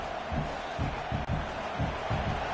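A home stadium crowd roars during a Texas A&M versus LSU game simulated in the NCAA 26 football video game, a dense, steady din with low rhythmic swells throughout.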